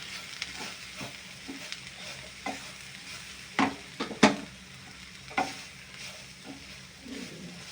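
A sprouts mixture stirred in a hot pan, with a soft background sizzle broken by several scraping spoon strokes and a couple of louder clanks against the pan.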